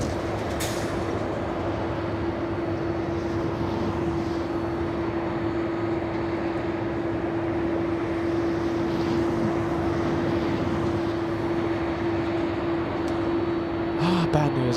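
A Boeing 767-300 airliner at LAX, a loud sustained engine roar with a steady tonal hum, continuous throughout with faint voices beneath.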